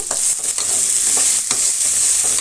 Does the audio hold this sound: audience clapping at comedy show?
no